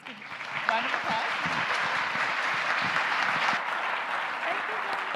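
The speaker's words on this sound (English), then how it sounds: "let's give a round of applause." An audience at a talk on compassion in pain care applauds with dense, sustained clapping, with a few voices murmuring through it.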